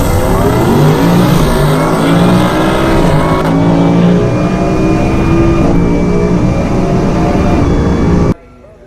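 A 2018 Ford F-150 with a Whipple supercharger and swapped pulley accelerates hard, its loud engine climbing steadily in pitch through the gears with a rising whine, close and dominant, then cutting off abruptly at the end.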